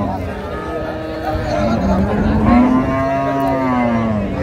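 Dairy cattle bellow at a busy rural cattle market in Dinajpur, one drawn-out moo swelling and holding over several seconds beneath steady chatter and nearby voices.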